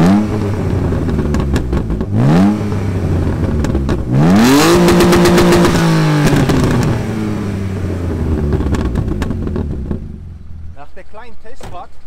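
A BMW E36 engine is revved during a stationary sound check: a short blip, then a longer rev that climbs and holds high before dropping back to a steady idle, loud and close, with voices talking around it.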